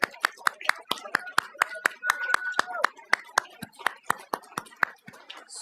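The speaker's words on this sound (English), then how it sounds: "why don't we give one more round of applause" A small congregation at a spiritual gathering gives scattered, distinct handclaps in an uneven rhythm, the individual claps sharp and fairly close, with a voice sounding faintly beneath them.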